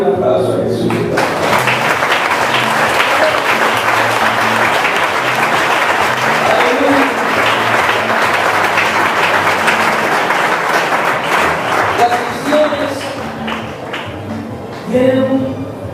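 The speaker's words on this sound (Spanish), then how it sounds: "déle un aplauso a Jesús" A church congregation applauds together in a sustained, dense wash of clapping that fills the room, with voices mixed in and a few louder bursts near the end.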